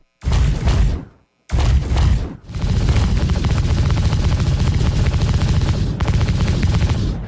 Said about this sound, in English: Let's show you the same audio effects applied to the ship weapons